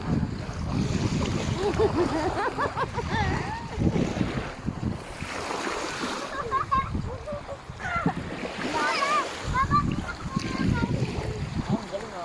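Sea waves wash and splash at a beach, a steady roar of surf and wind noise. Bursts of louder splashing rise and fall throughout, and voices are faintly mixed in.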